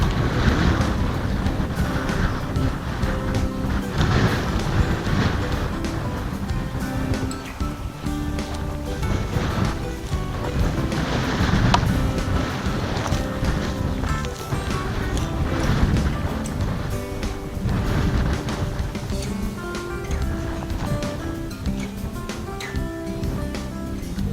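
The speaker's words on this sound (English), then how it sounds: "It's really windy." Strong wind roars and buffets the microphone in continuous gusts, a dense rushing noise that never lets up.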